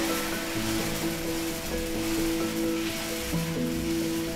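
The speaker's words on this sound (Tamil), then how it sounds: "தோசைக்கல் ஹீட்டாக இருக்குது, இப்போ தோசை ஊற்றிடலாம்." Dosa batter is poured onto a hot griddle for Mysore masala dosa, giving a steady, dense sizzle that hisses continuously at close range without any voices.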